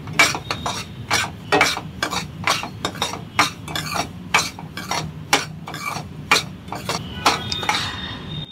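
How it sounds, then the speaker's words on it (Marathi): A metal spoon scrapes and clinks rhythmically against a pan as semolina is stirred while it roasts in ghee, with repeated sharp strokes every half second or so, close and fairly loud. "रवा भाजताना सारखा हलवावा लागतो, जर नाही हलवला तर तो खालून करपून जातो"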